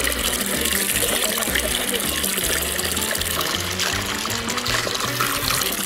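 Water splashes and gurgles steadily as it pours into a bucket with ice and some grass in it, continuous and close, with no talking.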